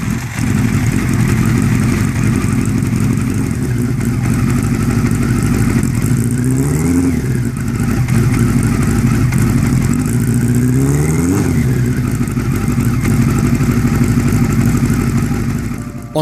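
A fibreglass car powered by a motorcycle engine revs hard and high, rising through the gears toward the red line with brief dips at each shift, loud and close throughout.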